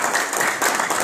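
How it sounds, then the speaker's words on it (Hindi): Audience applause for a company ambassador at a corporate event hall, a dense, steady wash of many hands clapping loudly and continuously without a break. "एक बार जोरदार तालियां उनके लिए होनी चाहिए"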